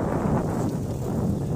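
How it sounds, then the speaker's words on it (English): Heavy wind buffets the microphone outdoors in a park in Japan, a steady low rumble, constant and loud throughout the short stretch. "So, I do apologize for the wind"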